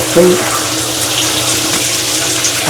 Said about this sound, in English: it works by pressing the button, and it will give out a couple of minutes of water